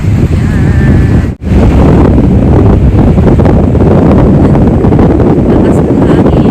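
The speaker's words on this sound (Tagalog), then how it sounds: "Malakas ang hangin." Strong wind buffets the microphone at a beach, a loud continuous roar with surf mixed in, briefly dropping out for a moment before resuming at full force.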